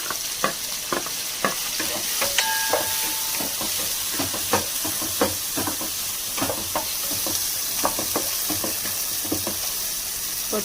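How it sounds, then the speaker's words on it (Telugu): Onions, green chillies and tomato fry in a pan for chicken pulao while a spatula scrapes and taps in a brisk, repeated rhythm over a constant hissing sizzle, close and without speech. "ఆనియన్స్ బాగా వేగాక పచ్చిమిరపకాయలు, టమాటా,"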